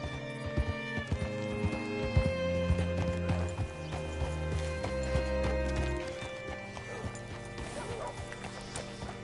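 Horse hooves clip-clopping in Red Dead Redemption 2, an irregular run of hoof knocks under sustained musical score, with a dog-like yap and a whinny-like cry briefly surfacing.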